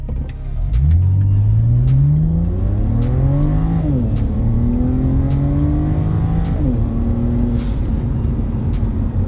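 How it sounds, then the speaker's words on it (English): A BMW 335i with the N54 engine, relocated inlets and 3-inch downpipes accelerating hard at full throttle: a loud, close engine note climbing through the gears, with the pitch dropping at each shift before rising again, no speech. "I'm just gonna go ahead and hit it full throttle and just see what time I can get"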